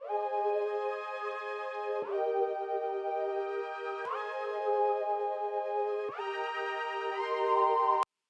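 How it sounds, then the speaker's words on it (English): A dry R&B synth pad preset called Stop Lying plays four sustained chords, each lasting about two seconds, warm and full with no effects added, close and steady throughout. "So the pad is called Stop Lying, and this is what it sounds like."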